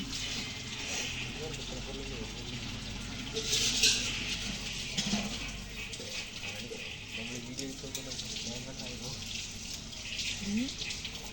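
Running water pours steadily throughout, with people talking over it and a brief louder splash partway through.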